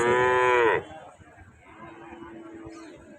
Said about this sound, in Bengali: এই জায়গাটা পুরো ছোট বাচ্চা গরু যাকে বলা হয় ছোট ছোট সার